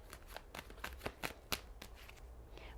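Tarot cards being drawn and shuffled from a deck, a quick series of crisp papery flicks and snaps close to the microphone, about a dozen in under three seconds, with no voice.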